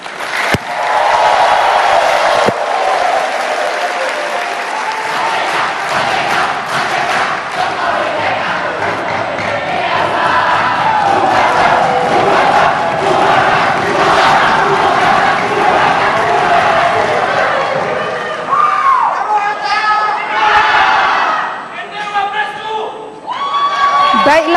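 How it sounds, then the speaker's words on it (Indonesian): Audience at a televised Indonesian vice-presidential candidates' debate breaks into loud, sustained applause mixed with cheering and whoops, filling the hall for most of the stretch before easing near the end. "saya persilakan untuk memberikan aplaus yang meriah"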